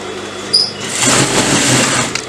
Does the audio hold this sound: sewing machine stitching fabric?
yes